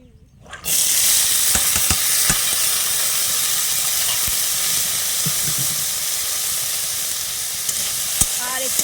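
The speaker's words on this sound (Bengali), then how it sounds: "আমি একটু সবজিটা হালকা করে ভেজে নেব তার জন্য আমি একটু অল্প তেল দিয়েছি" Garden vegetables fry lightly in a little oil, a steady close sizzle and hiss that starts abruptly after a brief quiet moment, with occasional soft stirring clicks throughout.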